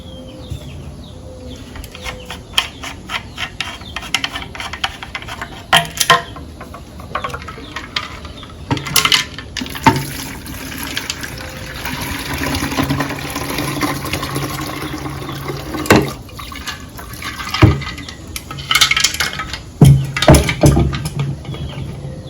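Water sloshing and splashing with rattling knocks of rocks tumbling inside a vintage outboard motor's gas tank, rinsing out gas residue and rust flakes, in irregular bursts over a steady wet background.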